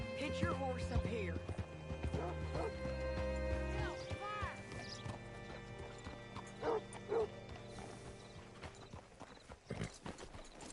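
Hooves clip-clop along as a horse moves, with a snort or whinny, amid game-like ambient tones and music; a voice speaks briefly.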